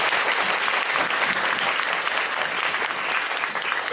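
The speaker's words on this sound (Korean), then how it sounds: "큰 박수로 부탁드리겠습니다" Theater audience applauding steadily and loudly throughout at a musical's post-show talk event, a dense continuous clapping with no voices over it.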